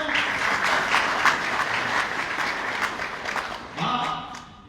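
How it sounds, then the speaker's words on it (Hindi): Applause from the audience at a Hindi book launch, a dense, sustained clapping that fills the room, eases slightly, then briefly swells again near the end before fading out. "आपके ताली बजाने से मैं प्रसन्न नहीं होता"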